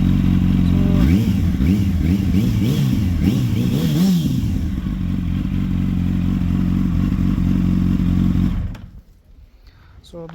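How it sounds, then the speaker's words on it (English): A Yamaha R1 or Kawasaki Z900 sportbike with a carbon fiber exhaust revs loudly and steadily, its note rising and falling in repeated blips before cutting off near the end. "For the carbon fiber exhaust, it ain't that much loud, especially on low revs, but on high revs you'll hear the"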